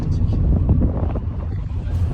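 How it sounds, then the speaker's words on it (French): Wind buffets the microphone at the seaside in Martinique, a steady low rumble of gusts across the whole stretch, with faint voices underneath. "Aujourd'hui il y a du vent."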